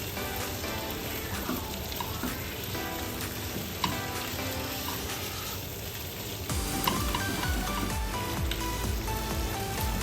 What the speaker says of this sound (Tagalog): Ngayon, halu-haluin muna natin ng kaunti para magsama-sama ang kanyang flavor.